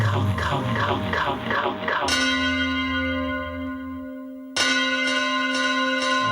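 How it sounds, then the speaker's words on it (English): A large church-style bell rings out with two strong strikes, the first after a short stretch of other sound, each stroke leaving a long shimmering ring that slowly fades before the next. "I hear the sound of the bell"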